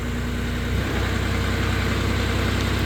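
The Kohler engine of a 2015 Moffett M8 truck-mounted forklift cranks and catches, a low steady idle hum rising loud and close inside a shop after a short starter whine.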